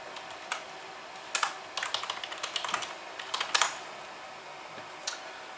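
Keys clack on a computer keyboard as a shutdown command for a Raspberry Pi 4 is entered, a quick run of close, light taps with a couple of sharper key strikes against faint room hum.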